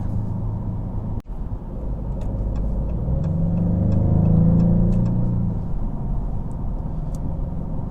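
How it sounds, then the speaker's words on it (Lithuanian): A 2024 Maserati GranTurismo Trofeo's V6 engine holds a low, steady rumble that swells into a throatier rev midway and then settles back, with one sharp click near the start and no voices. "nepakartojamas V6 netūnė variklio garsas"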